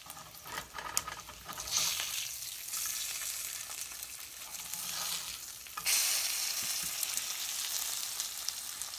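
Bacon frying in a pan, a dense crackling sizzle that runs continuously and swells sharply at one point, with faint scraping early on.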